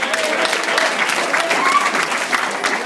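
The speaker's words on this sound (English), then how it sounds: "A tepid, obligatory round of applause for this collection of animals, please" Wedding guests give a steady round of applause throughout, a dense, even clatter of many hands filling the room at close range, with a little crowd murmur mixed in.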